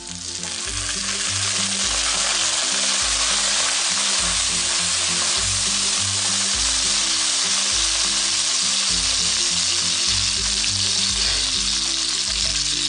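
Fried rice with Chinese sausage sizzles hard in a hot pan as soy sauce goes in, a loud, continuous crackling fry with stirring scrapes throughout.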